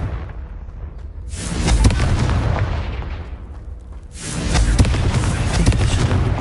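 Two booming blasts of the Confringo spell in Hogwarts Legacy, each a loud explosive burst with a rumbling tail, a few seconds apart.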